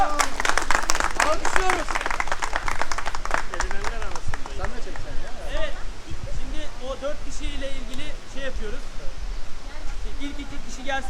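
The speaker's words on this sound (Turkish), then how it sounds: "Evet alkışlıyoruz arkadaşlar" A group of people applauds together at a game-like gathering in Turkey. Loud, dense clapping fills the opening seconds, then thins and fades while people keep talking.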